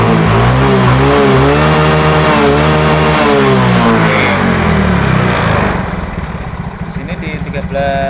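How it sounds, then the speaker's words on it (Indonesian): A Yamaha Mio J or Fino motor scooter engine revs loudly up and down several times, then settles into a lower, rattly idle. "mesin kita hidupkan"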